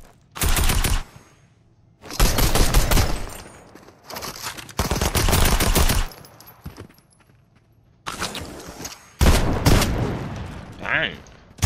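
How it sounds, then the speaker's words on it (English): Bursts of rapid machine gun fire in a Fortnite match, loud and close, coming in several separate volleys with short pauses between them. "I mean that machine gun"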